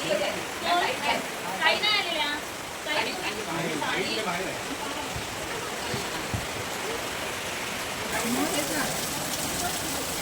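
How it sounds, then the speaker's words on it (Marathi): Heavy monsoon rain in the Konkan pours down in a constant rushing hiss as people talk over it. "बघा मंडळी किती पाऊस पडतो बघा"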